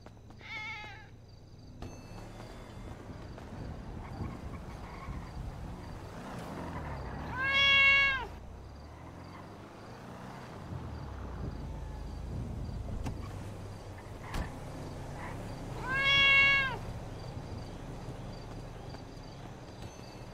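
A person voicing a cat character in a GTA5 roleplay gives two drawn-out imitated meows several seconds apart, each rising and falling, over a low background hum.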